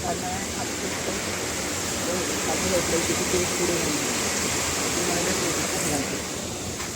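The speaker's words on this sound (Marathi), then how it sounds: "पाण्याचा आवाज येतोय" Steady rushing of flowing water, a continuous broadband wash with no breaks, fairly loud and close.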